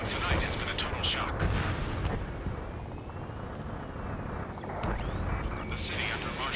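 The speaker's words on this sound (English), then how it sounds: "Gunfire and the roar of jets echoing through the streets." Distant gunfire and heavy explosions rumble through a city under martial law in the Ace Combat 7 combat flight game, a dense continuous wash of booms with faint jet roar mixed underneath.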